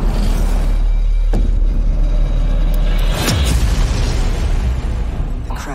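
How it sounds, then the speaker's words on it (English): A spacecraft crash on an alien planet in the Returnal game trailer, a deep rumbling impact with booming low roar and sharp bursts of debris, loud and close, with no talk. "The crash."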